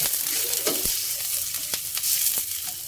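Frying bird's eye chillies and red chillies crackle and hiss loudly in a pan as water goes in, with a few sharp clinks and stirring scrapes through the sizzle.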